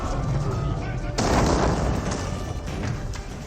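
A siege weapon hurls rocks amid a medieval battle in Age of Empires 4, with booming impacts and crashing debris over dense, continuous combat noise.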